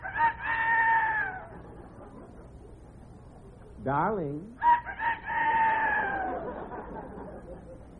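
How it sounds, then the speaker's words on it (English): A rooster crows twice nearby in a 1952 radio comedy show, loud and drawn out, with a brief spoken word between the crows. "No, that's the rooster."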